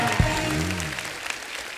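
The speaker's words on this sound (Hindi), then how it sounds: "मेरा मामा के लिए जोरदार ताली हो जाए गोविंदा जी के" A Kapil Sharma Show studio audience bursts into loud applause, with a sharp clap onset followed by sustained clapping under a brief vocal tone near the start.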